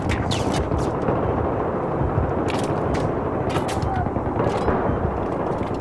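Dense gunfire in a Battlefield 3 multiplayer match, continuous rattling bursts with sharp cracks over a steady roar, loud and constant, with a player's voice over the shooting.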